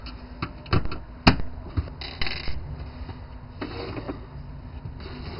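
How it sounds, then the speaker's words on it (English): Screws being removed from a Nintendo GameCube during a modchip install: a few scattered small metallic clicks and clinks, one sharp tick standing out, close and fairly quiet, with faint rustling between them. "Now we'll remove these 3 screws on the other side."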